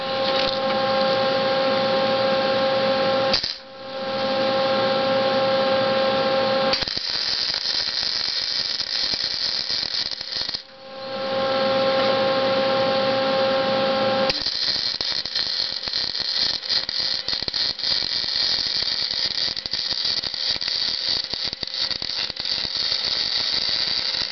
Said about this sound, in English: I'll go ahead and finish welding this up and show you the results.